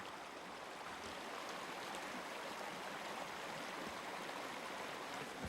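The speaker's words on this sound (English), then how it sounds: "So this is the San Gabriel River" The San Gabriel River flows through its mountain watershed in the Angeles National Forest, a steady, even rush of stream water close by with no voices.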